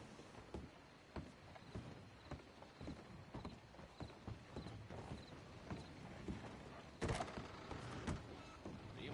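A horse in Red Dead Redemption 2 Online, hoofbeats clopping in a quick steady rhythm at moderate distance, with a sharper louder burst near the end.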